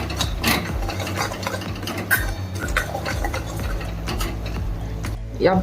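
Onion-garlic masala and mutton masala frying in oil for mutton curry, crackling and hissing up close while a spoon scrapes and stirs through it in uneven strokes.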